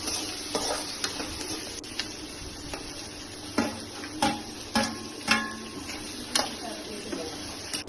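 Capsicum and salt stir-fried in a pan for gobi manchurian, a steady sizzle under repeated scraping and clinking strokes of a spatula against the pan, close and moderately loud, with no talk.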